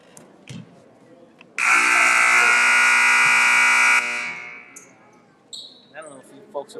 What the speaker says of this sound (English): Mr. Yarfito on the buzzer loves to hit that thing a lot